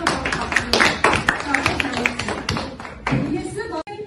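Children at a Kazakh school contest clapping for the Jasulan team, a few seconds of quick, uneven hand claps, close and fairly loud, with voices mixed in.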